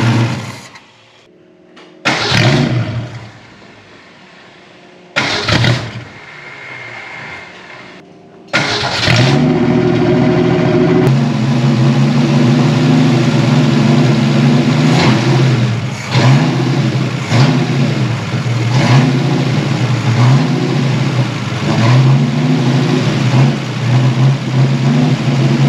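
A 1960 Ford Falcon engine, unused for 37 years, cranks in short bursts, then catches and roars to life, revving loudly and unevenly before settling into a rough, steady run.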